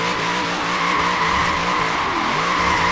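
A car drifting down a grass strip in the Forza video game, with a loud continuous tire skid and steady engine roar, close and unbroken.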